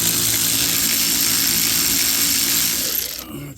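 A power tool on a shallow socket works a brake caliper bolt loose on a 2006-2013 Chevy Impala, a loud continuous whirring buzz that runs for about three seconds before cutting off.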